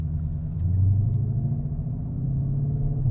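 Deep, steady engine rumble from a 2020 Ford Shelby GT500 Mustang at a rolling start from about 20 mph, a low continuous drone heard from inside or close by with no talking.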